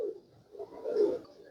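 Pigeon cooing from a main breeder bird of the Ghungroo bloodline, a few soft, low throaty coos rising and falling close by over about a second and a half.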